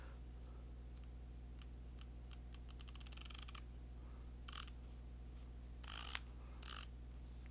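A turret dial on an Element Helix 6-24x50 rifle scope clicks close to the mic: a run of quick, evenly spaced clicks, then several short, louder bursts of ratcheting over a quiet background hum.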